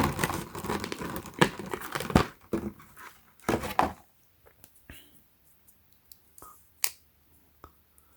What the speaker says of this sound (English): So it's wrapped in this plastic sleeve. I'm gonna take it out.